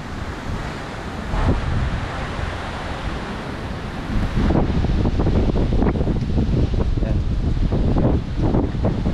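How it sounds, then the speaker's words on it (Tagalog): Strong typhoon wind buffets the microphone in heavy gusts on a farm, roaring and rustling, growing harsher midway, with faint voices buried beneath. "grabe yung hangin guys"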